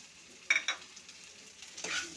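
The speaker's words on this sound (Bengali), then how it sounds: "একটু তেলের সাথে মিশিয়ে একটু ভেজে নেব।" Ground cumin, coriander, turmeric and chili powder are stirred into hot oil, giving two short, faint bursts of sizzle and spoon scraping with a quiet pause between them.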